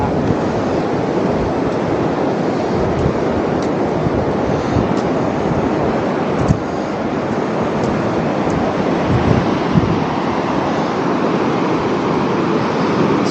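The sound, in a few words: Pacific Ocean surf at Long Beach, Tofino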